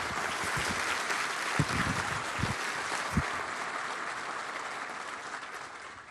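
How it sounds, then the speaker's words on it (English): Audience at a law enforcement awards ceremony applauding in a steady, even wash of clapping, with a few low thumps standing out early on before the applause slowly tapers. "one more round of applause for Joseph Crowder"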